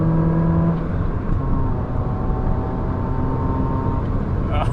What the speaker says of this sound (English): Oh, listen to that! Oh, I'll tell you what, it's got some poke.